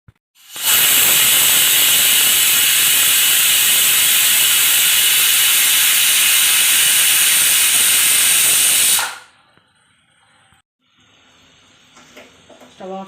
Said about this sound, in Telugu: ఇప్పుడు కుక్కర్ మూత పెట్టుకొని మీడియం ఫ్లేమ్లో కుక్కర్ని 5 విజిల్స్ వచ్చేంత వరకు